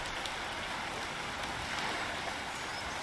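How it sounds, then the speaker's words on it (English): Rain falls in the city-building game Pompeii: The Legacy as a continuous, quiet, even patter and hiss with no other sounds standing out. "And it's raining again."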